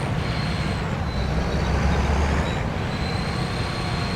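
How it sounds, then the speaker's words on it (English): An old tractor engine in a farming video game drones with a steady, low rumble and mechanical clatter, holding at an even loudness throughout with no voices. "I love the sound of these tractors, these older ones."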